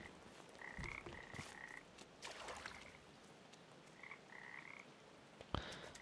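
Frogs croak in the video game Papo & Yo, several short repeated croaking bursts coming in clusters over a soft ambient wash, with one sharp thud near the end.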